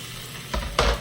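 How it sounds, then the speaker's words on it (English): Salmon fillets laid into a hot, oiled cast iron pan hiss loudly, with two bursts of sizzle as each fillet hits the surface over a steady background. "I have oiled my cast iron pan and it is nice and hot. And I'm just gonna go ahead and lay my fillets right on there."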